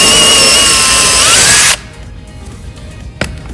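A power drill bores loudly into a wooden panel during assembly of a robotics competition course, a steady whining run of nearly two seconds that cuts off abruptly, followed by quiet room noise and one sharp knock.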